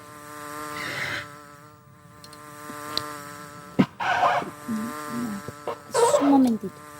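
A buzzing fly in a children's TV show: a steady nasal drone with harmonic overtones runs throughout, swelling in louder bursts near the middle and end, close and fairly loud.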